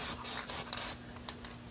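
Spray paint hissing from an aerosol can during a quick camo paint job, several short bursts in quick succession at close range, then a couple of brief final puffs.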